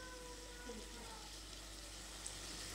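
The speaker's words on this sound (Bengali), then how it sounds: "আমি পিউরি করে নিয়েছিলাম সেই টমেটো পিউরিটা দিয়ে দিলাম।" Tomato puree sizzles in a hot pan, giving a faint, steady hiss that stays even for a few seconds with no other sound.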